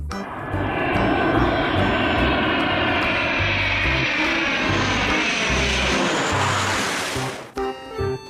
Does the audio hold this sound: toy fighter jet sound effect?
yes